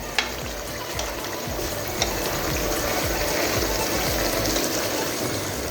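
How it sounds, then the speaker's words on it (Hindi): Keema (minced meat) and green beans are stirred in an oily pan after fresh coriander goes in, with a steady close sizzle under repeated scraping, clicking strokes of a spoon against the pan and no talking. "अब इसके ऊपर हम हरा धनिया डाल देंगे और इसको मिक्स कर लेंगे।"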